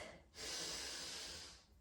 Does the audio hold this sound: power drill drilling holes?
no